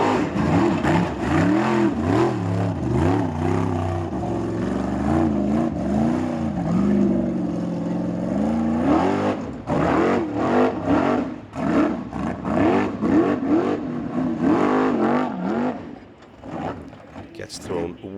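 A Formula Offroad buggy named Rodeo revs its engine while climbing a steep track at a competition in Akureyri, Iceland, rising and falling throttle bursts heard beneath continuous commentator talk.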